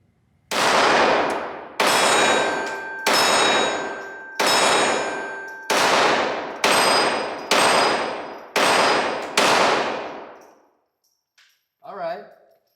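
A Kel Tec CP33 .22LR pistol fires about nine sharp, ringing shots at a steady pace, each decaying into a metallic clang, followed by a brief voice.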